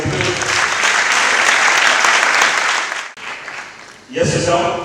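A conference audience applauds to welcome a guest, with loud, dense clapping that holds for about three seconds and then dies away. A voice speaks over the tail end.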